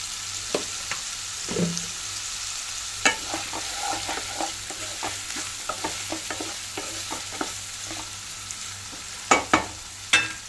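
Sliced onions with salt cooking in a pan for egg and drumstick curry, a steady sizzle under irregular clinks and scrapes of a spoon stirring, growing sharper toward the end, with no talking.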